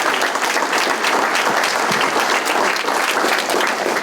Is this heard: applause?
yes